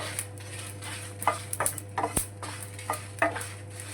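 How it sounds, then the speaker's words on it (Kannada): Wild mango curry cooks in a pan with a soft frying sizzle, broken by repeated clinks and scrapes of a spoon stirring against the metal, close up, with a steady low hum beneath. "ಇವಾಗ ಚೆನ್ನಾಗಿ ಫ್ರೈ ಆಗ್ತಿದೆ"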